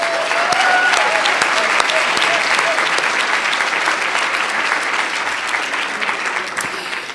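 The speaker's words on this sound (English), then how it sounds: "Let's give another round of applause to President Sorrell." Sustained applause from a symposium audience in a hall, dense steady clapping that carries loud throughout and eases slightly toward the end.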